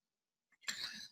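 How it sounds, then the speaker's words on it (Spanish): A single short cough, close and faint, preceded by a tiny throat sound, rising out of silence during a lecture. "me agarró una tos"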